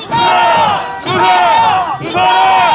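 Protest crowd surrounding a police headquarters raising a loud chant, three long massed shouts in a rising-falling rhythm, each swelling and dipping briefly between.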